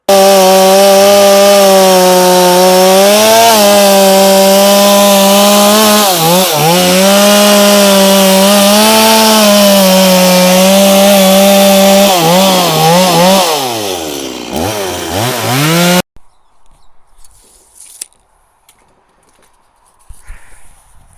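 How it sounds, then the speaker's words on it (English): Loud chainsaw engine buzzing steadily as it cuts wood on a new house build, pitch dipping under load, then cutting off abruptly, followed by quiet with a few faint knocks. "I get the chainsaw back out."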